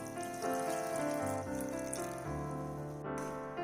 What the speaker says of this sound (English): After 1 minute, you can then add 1 glass of water.